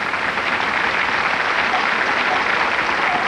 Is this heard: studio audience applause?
yes